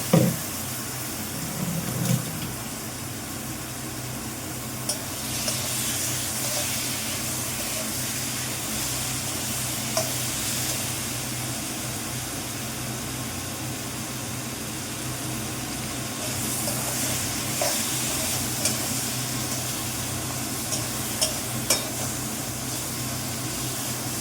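Fat sizzles steadily with spices in a cooking pan, a continuous frying hiss that stays even and fairly close throughout, with small crackles and pops rising now and then and no talking.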